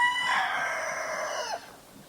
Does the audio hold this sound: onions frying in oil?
no